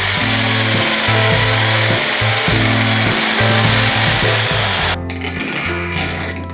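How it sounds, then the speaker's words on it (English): A power drill bores a hole in one end of a part during catamaran construction, running loud and close with a steady whine that stops and restarts several times, then drops to a lower, rougher tone near the end. "In one end I drill a hole for a sprint."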